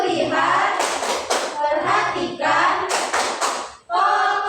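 A classroom of children does the tepuk fokus clapping chant, with short bursts of sharp group claps between lively chanted and spoken voices.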